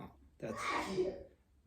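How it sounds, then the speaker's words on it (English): A woman sneezes once indoors, fairly faint and a short way off, and a voice speaks briefly afterward. "Housemate just sneezed."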